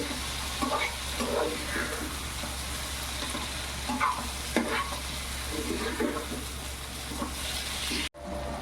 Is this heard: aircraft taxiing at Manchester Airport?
no